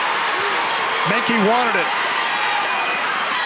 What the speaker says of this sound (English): And that gets the crowd fired up